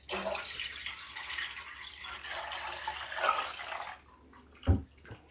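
Maple sap from the previous night's collection pours into a smaller finishing pot for backyard syrup making, a steady splashing liquid stream for about four seconds, followed by a few quieter drips and a single sharp knock.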